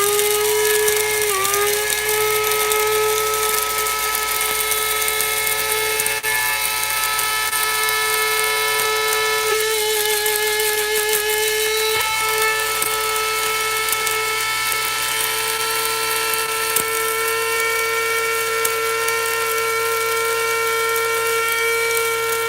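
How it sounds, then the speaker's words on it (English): Herbs being ground for a tincture in an electric grinder, a loud, steady motorized whine that holds for the whole stretch with slight pitch dips, close up and uninterrupted by talk. "It's really hard to talk through the grinding, so I'm going to be quiet."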